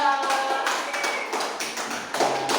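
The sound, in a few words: classroom applause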